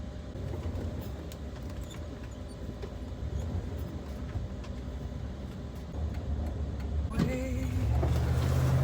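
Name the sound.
van driving on the road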